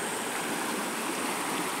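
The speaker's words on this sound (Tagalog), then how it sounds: "ang ilog dito" A river rushes steadily nearby, a dense, even wash of flowing water with no pauses.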